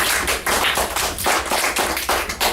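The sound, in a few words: audience applause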